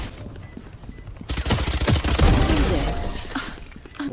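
Rapid gunfire erupts in a Valorant match, a loud burst of repeated shots with sharp impacts after a quieter stretch, then tailing off.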